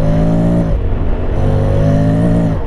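A 2021 Honda X-ADV scooter-type motorcycle's engine revs loudly and close, its steady drone dipping as the throttle eases and then climbing again before a brief rattle at the end.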